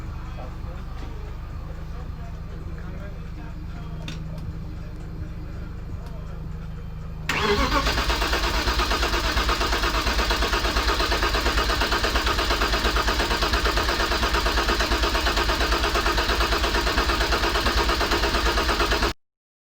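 A BMW E36 turbo engine cranks and fires after a quiet stretch, then settles into a steady, loud idle that runs on until it cuts off abruptly.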